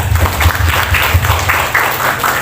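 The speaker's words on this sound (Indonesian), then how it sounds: "Tepuk tangan buat kalian semua." An audience at a Muhammadiyah school teachers' training event claps throughout, a dense, close patter of many hands that holds steady for a couple of seconds with no break.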